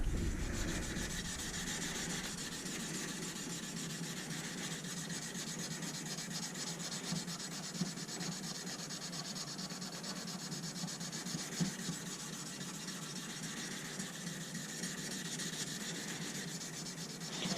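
Steady, continuous scratchy rubbing of abrasive paper worked back and forth by hand over a steel knife blade, close up, with no talking.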